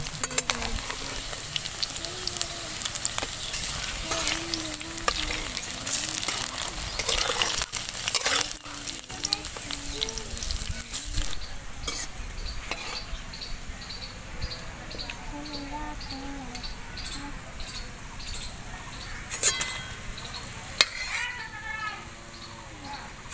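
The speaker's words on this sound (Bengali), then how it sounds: "একইভাবে আমি সব পকোড়াগুলো ভেজে নেব।" Coriander leaf pakoras deep-fry in oil with a continuous bubbling sizzle, broken by occasional louder crackles and stirring clicks, and faint chirping sounds in the background.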